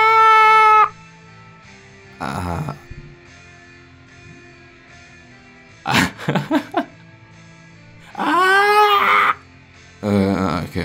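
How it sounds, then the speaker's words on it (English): A voice lets out several loud, drawn-out screams and cries in separate bursts while playing the video game Night in the Woods, with quiet pauses and a faint hum between them. "I'm gonna scream for a while."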